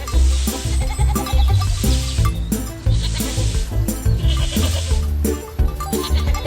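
A cartoon goat in a preschool farm video game bleats repeatedly in loud, wavering calls over upbeat background music, several bleats in a row.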